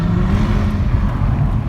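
A Jaguar F-Type SVR engine drones loud and close, a steady deep rumble with a slowly rising tone and no voices over it.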